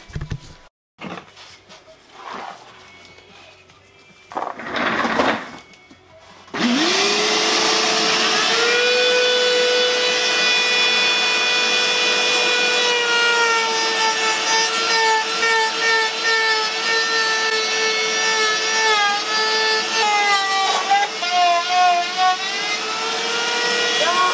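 A fibreglass widebody overfender is trimmed with a power cutting tool, its loud, steady high-pitched whine running continuously after a few quieter knocks and handling noises at the start.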